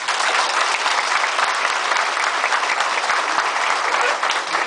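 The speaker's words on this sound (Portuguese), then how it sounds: "E para eles eu peço uma salva de palmas" A crowd at a political candidacy launch in Jaboticaba bursts into loud, dense applause, continuous clapping filling the space close and steady from start to finish.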